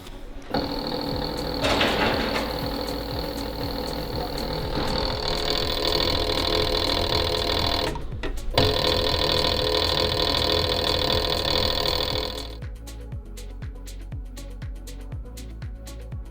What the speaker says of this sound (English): we've put them through the skiver machine now